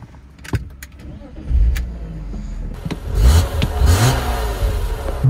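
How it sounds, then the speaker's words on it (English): A BMW Z3 M Coupe engine cranks and fires up: a few clicks and a brief starter whir, then the engine catches with a loud rising burst and settles into a rough, throaty idle close by. "And this is what it sounds like starting up."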